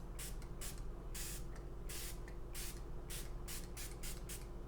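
Makeup setting spray mists onto a face in a series of quick, close hissing bursts, about a dozen short sprays in irregular rhythm over a low steady background hum.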